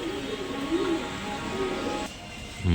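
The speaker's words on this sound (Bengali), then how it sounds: "এক জোড়া রামপুরি কবুতর" A pair of Rampuri pigeons coo softly up close, with a few low, rolling calls over quiet background noise.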